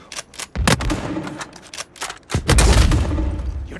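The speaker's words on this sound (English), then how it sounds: "The sound of gunfire." Sharp bursts of gunfire crack out in quick irregular volleys, loud and close, with a heavier sustained barrage near the end.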